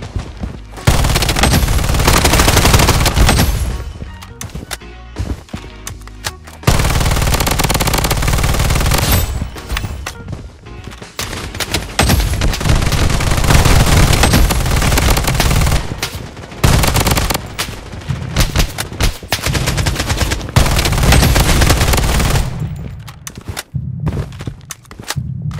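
Loud, sustained machine-gun fire rattles in long, dense bursts with brief pauses throughout a firefight in the Project BloodStrike shooter game, mixed with thuds and footsteps.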